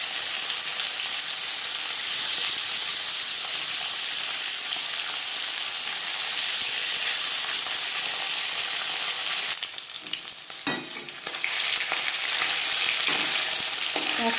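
Marinated rupchanda fish pieces and fish heads frying in hot mustard oil, a steady bright sizzle throughout, with a brief louder burst and some stirring clatter toward the end.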